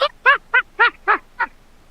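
Six loud, close goose-like honks sound in a quick, evenly spaced series, coming from CGI birds in a video, with no talking.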